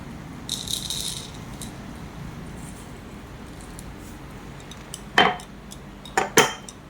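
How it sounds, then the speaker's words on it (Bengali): Whole black peppercorns rattle into a spice container, a soft hiss of pouring early on, then a few sharp clinks and rattles near the end over a low room hum. "আর এখানে একটু গোটা গোলমরিচ রাখছি"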